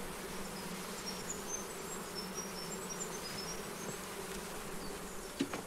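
Many honey bees hum around uncapped honey frames during extraction, a steady, even swarm drone with faint higher buzzes drifting past and one brief close bump near the end.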